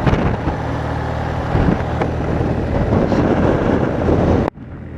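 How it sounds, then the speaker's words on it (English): Steady, loud wind buffeting the microphone with a broad rumbling roar, cutting off abruptly near the end to a much quieter hiss. "Still very windy."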